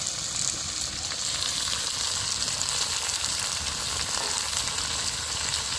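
Chillies and capsicum sizzle and fry steadily in a hot pan, a continuous close crackling hiss with no talking.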